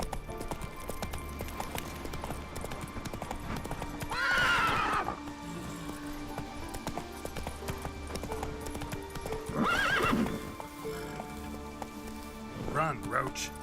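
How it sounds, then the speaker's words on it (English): Horse hooves and neighing from The Witcher 3: Wild Hunt Next-Gen, with loud whinnies at three points over a steady clip-clop of riding, under a bed of game music and ambient rain. "騎馬過去先。"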